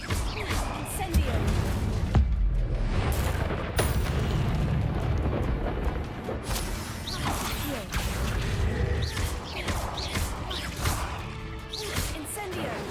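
Incendio fire spell cast repeatedly in Hogwarts Legacy, roaring fiery whooshes and crackling bursts layered over dense game sound effects, with a voice talking over the spell effects.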